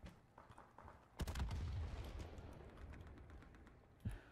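A single sharp sniper rifle shot bursts out in a video game, followed by a long rumbling echo that decays over a few seconds, with a second smaller impact near the end.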